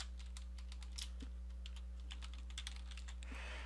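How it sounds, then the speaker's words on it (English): Steady clicking of keys on a computer keyboard, fast irregular taps close by over a constant low electrical hum, with no talking. "I could type in commission"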